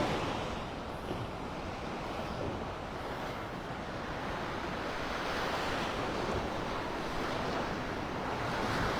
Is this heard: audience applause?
no